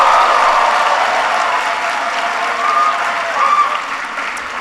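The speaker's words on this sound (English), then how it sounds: "can everybody please give Grace another big round of applause?" An audience at a town hall applauds for Grace, a dense roar of clapping from a large crowd that holds steady and then gradually eases.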